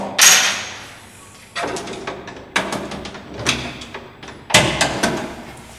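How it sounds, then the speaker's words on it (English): A flat-bladed screwdriver prying plastic covers off the manifold of a VESDA smoke detection unit, giving several sharp clicks and snaps with short rattling knocks between them, close up with no voices. "So we just take a flat bladed screwdriver, you can gently tease that one off."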